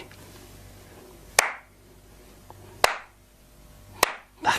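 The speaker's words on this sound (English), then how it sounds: "Hey, why don't we clap it off?" Three sharp, isolated hand claps ring out loud and close, spaced about a second and a half apart, each a crisp smack with a short decay and quiet pauses between.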